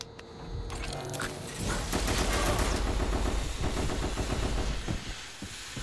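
Rapid automatic gunfire in a video game rattles in dense, continuous bursts of shots, loud and close, lasting several seconds.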